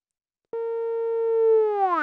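A psytrance bass synth patch built in FL Studio plays one sustained, buzzy harmonic tone that starts abruptly after a short silence, holds steady and loud, then wobbles and bends as its filter sweeps at the end.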